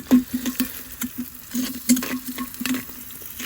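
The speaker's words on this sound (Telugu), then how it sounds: "నెక్స్ట్ ఇక్కడ ఉల్లిగడ్డలు అయితే వేసుకుందాం నూనెలో" Onions frying in oil in a pot cooked outdoors, a steady sizzle punctuated by repeated scraping and knocking stirring strokes, close and without talk.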